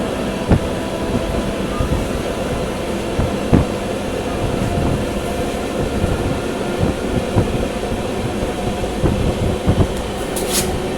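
An Intercity Express runs at speed through the Khandala ghat between Mumbai and Pune, a loud continuous rumble and rush of wheels on rails with scattered clicks and clacks, heard from on board without talk.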